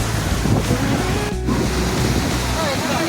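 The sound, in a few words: sea waves at Mandarmani beach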